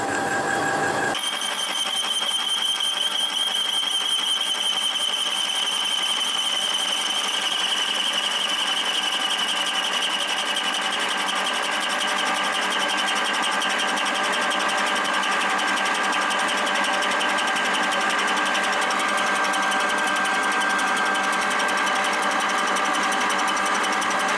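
A boring machine cuts the engine cases of a replica antique motorcycle with a steady, loud whirring drone and a sustained high metallic whine that holds for the whole stretch without a break, and no one speaking.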